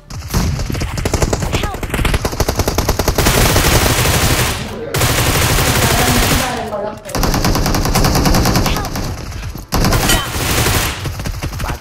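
Rapid bursts of automatic gunfire in BGMI/PUBG Shadow Force mode, loud and close, rattle in long sustained volleys separated by brief pauses, with occasional voices underneath.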